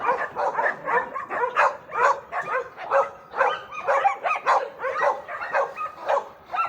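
Several hunting dogs bark and yip excitedly in rapid, overlapping bursts nearby, a continuous noisy chorus with some whimpering mixed in.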